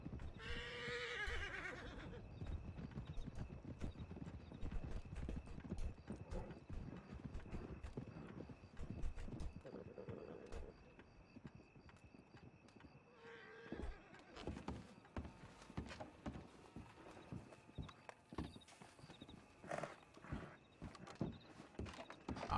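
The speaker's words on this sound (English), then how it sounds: "I heard a stampede of horses." Hooves clatter in a busy rush of stampeding horses in a video game, with a horse whinnying at the start and again midway, the whole scene fairly faint and cluttered.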